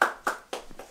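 An audience on a cooking show set gives a short burst of clapping, several sharp claps in quick succession that fade after about a second.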